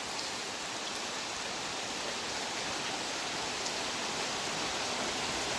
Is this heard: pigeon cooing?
no